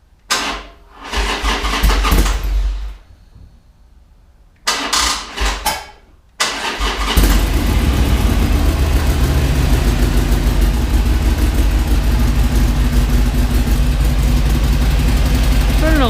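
Harley-Davidson Iron 883 motorcycle, cold engine, cranking in short bursts before catching and settling into a loud, rough, continuous idle, close up.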